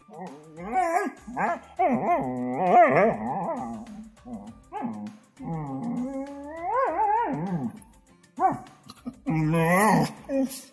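A dog vocalizes up close in a run of drawn-out howls and whining, yowling cries, loud and expressive, coming in several separate bursts with short pauses between them.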